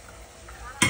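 Small tomatoes are dropped into a hot pan, and a sudden burst of sizzling frying erupts near the end after a quiet, low-level hum.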